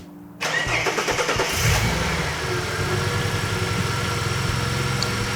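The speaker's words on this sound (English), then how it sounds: "we need to start the engine" A car engine cranks and fires up close by for a battery charging system test, then settles into a steady, even idle with no talking.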